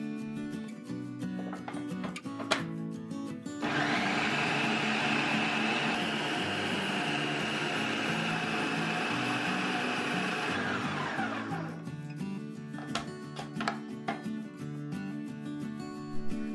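An electric blender or food processor whirs steadily for about eight seconds while grinding oats into fine flour, loud and close, with brief kitchen clatter before and after.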